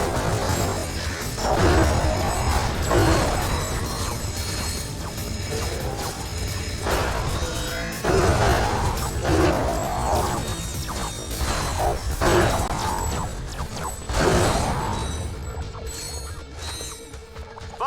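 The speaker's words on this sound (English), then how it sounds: "I've upgraded your bots to turn both cranks" Mechanical clanking and ratcheting from bots turning cranks in the Ratchet: Deadlocked video game, with repeated metallic impacts and whooshes over a dense, continuous game soundscape and no voice.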